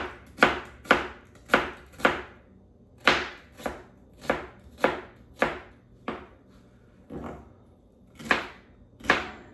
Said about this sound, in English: Let's dice up the other quarter.